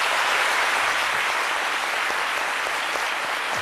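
Steady applause from a studio audience at a French-language talk show, a dense continuous patter of many hands at even loudness throughout, with no voices over it.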